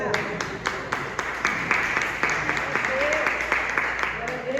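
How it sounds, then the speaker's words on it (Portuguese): A church congregation applauds during a Portuguese-language worship service, a steady patter of many hands with sharp individual claps standing out, mixed with voices talking underneath throughout. "Aplauda o Senhor."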